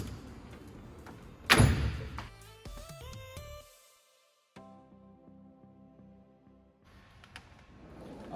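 Metal drawer of a 68-inch toolbox slides and thuds shut with a loud bang, followed by rattling and clinking contents, a short silence, then rolling slide noise as it opens again.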